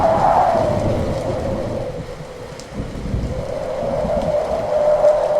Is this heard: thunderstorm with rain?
yes